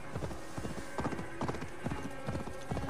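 Horse hooves clip-clopping in the Assassin's Creed Valhalla video game, a steady rhythmic gallop of close, moderately loud hoof strikes over faint game ambience.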